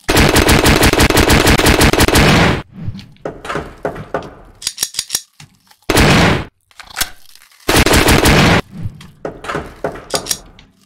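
A machine gun in the horror video game Puppet Combo Spiders fires in loud, sustained automatic bursts that alternate with clunky mechanical clacks and thuds between volleys, close and dominant with no speech.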